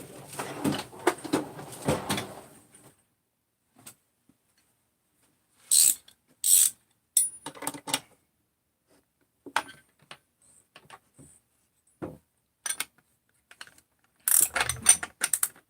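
A bearing being cranked down into a chainsaw crankcase with a press tool, heard as clusters of ratcheting mechanical clicks and turns, loud and close, separated by quiet gaps.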